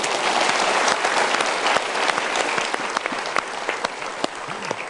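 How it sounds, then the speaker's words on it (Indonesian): Audience applause fills a motivational talk show studio, a loud, continuous wall of clapping that gradually thins toward the end, with a few individual claps standing out. "Kita berikan tepuk tangan dulu."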